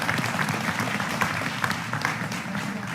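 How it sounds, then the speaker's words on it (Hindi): Applause from an audience at a Hindi political comedy or poetry event, dense steady clapping throughout, moderately loud with no voices on top. "स्वागत। तालियां।"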